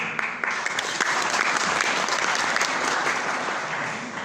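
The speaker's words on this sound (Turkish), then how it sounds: "Alkışlarınızla Bağlama Mehmet Kadın," Steady applause from an audience at a Turkish saz music performance, dense and sustained clapping throughout with no talking over it.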